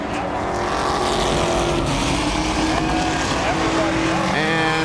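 Late model race cars roar together at a short dirt speedway track along the backstretch, a dense sustained engine drone with rising revs, and an announcer talks over it.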